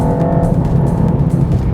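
A car engine revs hard with its exhaust roaring, delivering strong torque from low RPM in a deep, steady growl that is close and loud throughout.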